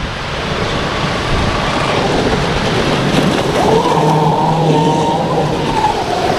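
A Black Jack 42 RC car power slides, its motor whining loudly and continuously, with the pitch climbing and holding high as the car accelerates through the slide. No one talks.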